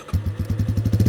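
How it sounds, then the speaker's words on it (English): A Yamaha Warrior 350 ATV launches in second gear, its engine firing in rapid, loud, close thumping pulses that speed up as it pulls away. "Yamaha Warrior 350, baby. Do a second gear launch, here we go."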